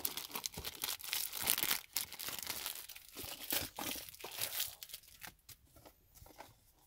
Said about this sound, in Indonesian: Plastik udah gue buka.